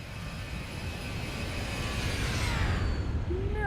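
A Zibo Boeing 737-800 in the X-Plane 11 flight simulator makes a flyby, its steady jet roar building gradually over a few seconds and swelling louder toward the end, with no talk.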